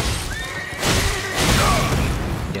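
A horse neighs in the Elden Ring video game, a clear whinny sweeping over a noisy game soundscape with rumbling impacts and busy background effects, fairly loud and close.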